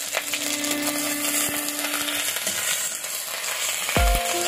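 Whole cumin seeds and grated ginger fry in hot oil for a vegetarian bhog khichuri, giving a steady, close, broadband sizzle with a sharp burst near the end.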